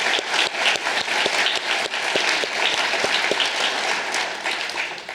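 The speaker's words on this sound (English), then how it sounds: "How about a round of applause for them?" A large audience applauds steadily at an annual community foundation meeting in York County, dense clapping sustained at full strength throughout, with no talk over it.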